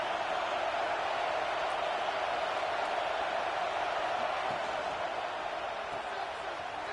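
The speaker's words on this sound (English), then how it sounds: "this crowd is fired up. Listen to this noise here." A stadium crowd in an American football video game roars as a steady, unbroken wash of noise throughout, loud and even with no distinct claps or chants standing out.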